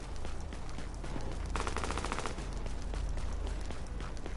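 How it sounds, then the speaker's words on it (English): Continuous rapid submachine gun fire in Tom Clancy's The Division, dense and rattling, with a sharper burst in the middle, steady and fairly loud throughout. "Sounds like a submachine gun."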